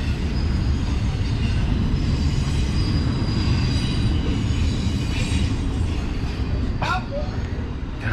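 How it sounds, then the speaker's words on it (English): A train rumbles steadily through town during the Tallapoosa Dogwood Festival on a cold morning, with loud continuous rolling noise and a brief high wheel squeal near the end, no talking. "Everybody loves the train riding through town."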